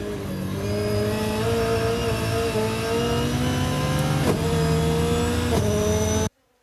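A Hoonigan Subaru GL rally car corners at the Goodwood Festival of Speed, its engine loud and close with a steady, rising rev. Quick gear-change blips break the drone before it cuts off abruptly.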